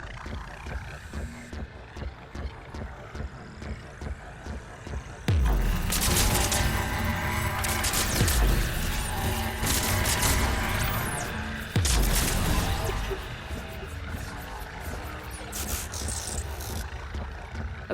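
Video game gunfire erupts in dense bursts of rapid shots with booming impacts, loud and sustained over busy game music and effects, easing off between volleys.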